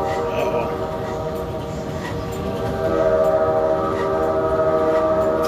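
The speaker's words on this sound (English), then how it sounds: "It's a train." A train on an indoor amusement ride approaches amid loud, steady mechanical rumble and sustained horn-like tones, with a brighter whistle tone rising in the second half; voices talk over the din.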